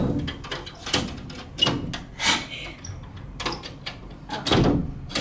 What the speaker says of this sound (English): You want to open the door for us?